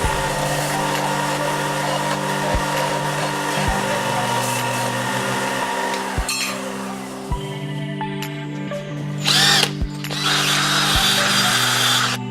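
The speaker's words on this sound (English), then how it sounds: "What I wanted to do is just sand this down on my belt sander, get some of the rough stuff out of the way." A belt sander grinds down a rough pewter piece in a garage, a loud continuous motor whine with periodic clicks from the belt and sharper scraping bursts as metal meets the abrasive near the end.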